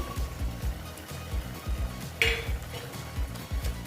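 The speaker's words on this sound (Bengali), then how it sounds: "দেখো বন্ধুরা ঝোলটা ফুটে উঠেছে এবার আমি মাছগুলো দিয়ে দিচ্ছি দেখো" Small bata fish going into a pot of boiling curry with aubergine and potato, a soft bubbling simmer with rhythmic low knocks and a brief bright splash or hiss near the middle, close with no talk.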